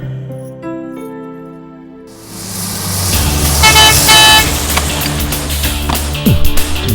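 A lorry horn honks outside in the early morning with sustained, steady tones, then gives way to louder rumbling, clattering traffic noise.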